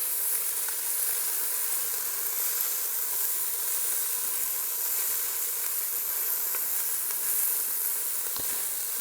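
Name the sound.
tofu, onions and garlic sautéing in a Ninja Foodi pot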